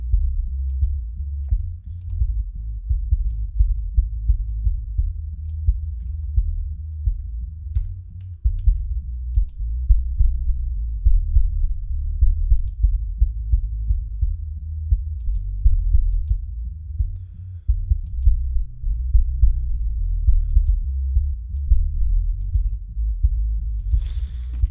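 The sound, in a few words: music mix bass frequencies below 50 Hz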